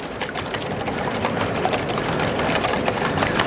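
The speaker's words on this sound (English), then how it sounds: "We're going to give them a nice little mix up here. Whisk them," Cracked eggs being whisked in a bowl for a quiche Lorraine, a fast, steady, even clatter of the whisk continuing without pause at moderate loudness.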